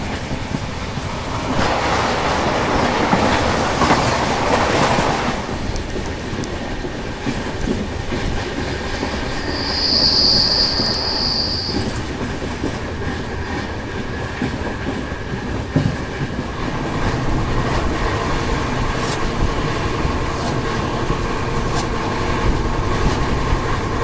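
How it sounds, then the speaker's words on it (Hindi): A Delhi–Ajmer Shatabdi Express train runs at about 130 km/h past Rewari, heard from inside the coach as a loud, continuous rumble with rhythmic wheel clatter and a brief high whine midway. "ट्रेन 1:30 की रफ्तार में चल रही है"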